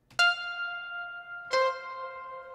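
Two bright synth lead notes made in Sunvox ring out, each sustaining and trailing off into delay echoes and a reverb tail.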